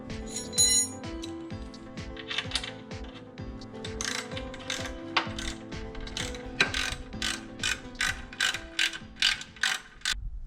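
Close, crisp ratchet clicks tighten the chain on a Noram Cheetah clutch fitted to a 212 Ghost kart. Irregular metallic handling noises come first, then a steady run of evenly spaced clicking strokes.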